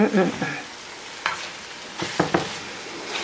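Eggs fry in butter with a soft sizzle under a few short clattering stirs and scrapes of a utensil in the pan.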